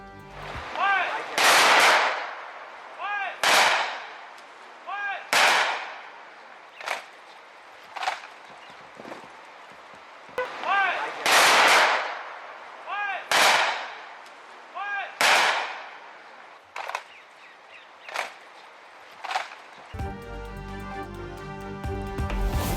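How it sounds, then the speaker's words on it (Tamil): Rifle volleys of a military funeral gun salute crack out in repeated loud bursts, each followed by a brief echo, spaced a few seconds apart, with quieter shots between and music at the end. "துப்பாக்கி குண்டுகள் முழங்க முழு ராணுவ மரியாதையுடன் சொந்த ஊரில் தகனம்."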